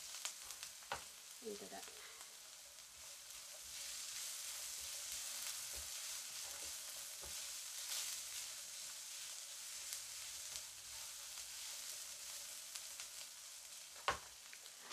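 Two garlic cloves frying in a pan for a homemade moussaka. A quiet, continuous sizzle runs throughout with a few faint clicks, and a voice speaks briefly near the start.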